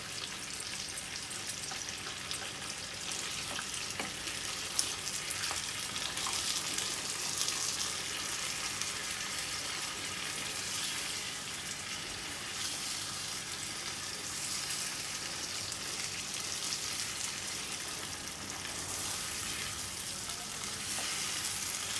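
Beef achar gosht with yogurt cooking in a pot, a steady hissing sizzle with occasional scraping stirs and small bubbling pops, close and continuous with no talking.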